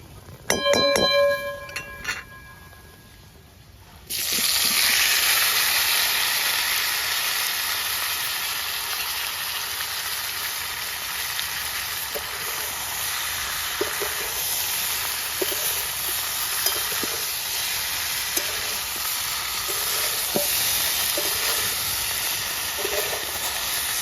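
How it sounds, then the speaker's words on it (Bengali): Spiced seeded bananas hit hot oil in a wok, setting off a sudden loud, steady sizzle that keeps hissing, with occasional stirring clinks, after a few seconds of quieter handling. "কলাগুলো একটু কষিয়ে নিলাম"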